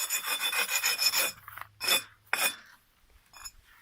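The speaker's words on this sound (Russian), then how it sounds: "Точит кирпич." Stone cutting machine grinding a brick while a two-storey heating stove is built, giving harsh gritty rasping strokes, a long scrape followed by two shorter bursts and a faint trailing rub.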